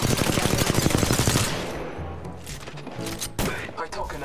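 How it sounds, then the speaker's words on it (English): Gunfire in the video game Apex Legends, a rapid burst of automatic shots up front, then scattered thumps and distant shots over game noise. "I'm getting shot at."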